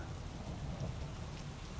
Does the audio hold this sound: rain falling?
yes